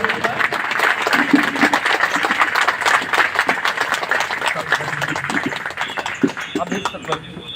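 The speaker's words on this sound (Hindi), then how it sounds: "जोरदार तालियों से स्वागत करें हमारे अधिकारी महोदय।" A crowd gathered to hear grievances from fraud victims in Fatehpur applauds in welcome for the district officer, a steady dense patter of clapping that runs the whole time under a speaking voice.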